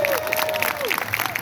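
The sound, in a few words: audience clapping in agreement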